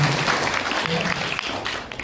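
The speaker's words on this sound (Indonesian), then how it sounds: "Tepuk tangan buat Bang Ibeng ini." Guests applauding at a silat martial arts school inauguration ceremony at an orphan pesantren, brief dense clapping with a voice heard over it.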